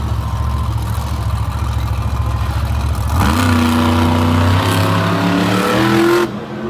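A monster truck engine at a Monster Jam freestyle show in El Paso, 2022, droning loudly, then surging into a rising, sustained high-revving roar during a sky wheelie before cutting off abruptly, with no talking.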